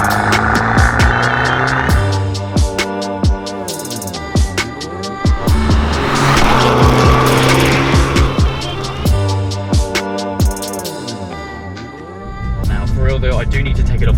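An Abarth 695 XSR driven hard in sport mode, its engine revving up in repeated climbing sweeps through the gears, with sharp drops and crackles between shifts. Loud and close, with a brief lull near the end.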